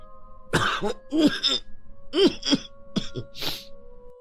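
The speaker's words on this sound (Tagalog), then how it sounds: "Hindi pa rin gumagaling ang ubo ko eh." A string of harsh, chesty coughs, several bursts in close succession followed by a final breathy one, close to the listener with a faint steady hum behind.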